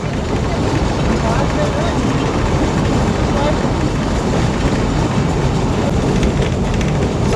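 The Matheran toy train rumbles along the rails, a loud, steady, roaring clatter that fills the whole stretch without letup.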